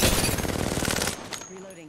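Rapid automatic gunfire from Apex Legends, a dense run of close, loud shots lasting about a second before cutting off, followed by quieter game effects with a voice speaking.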